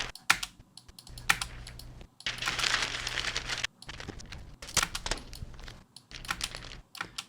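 Paper crinkles and rustles in several bursts, with a longer stretch of handling in the middle and short crisp taps between, no one speaking.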